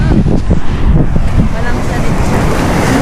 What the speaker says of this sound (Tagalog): Masyadong malakas yung alon guys.